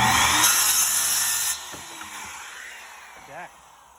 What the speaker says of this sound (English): Got the saw. We'll just cut it. Just follow that same line, eh?